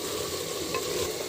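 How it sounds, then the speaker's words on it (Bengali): Spicy meat bhuna fries in a pan with a steady, close, dense sizzle and a faint stirring rustle running through the whole short stretch. "এর পাশে কিন্তু মাংস ভুনা হচ্ছে"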